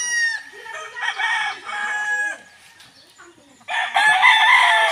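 A gamecock crows at a game farm: two loud, close, drawn-out calls separated by a short pause, with faint background noise between.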